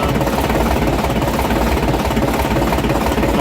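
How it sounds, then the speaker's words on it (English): Leyland Routemaster bus diesel engine at an emergency stop, a loud, steady rumbling idle with heavy low knocking that runs for a few seconds without winding down. "Emergency engine stop."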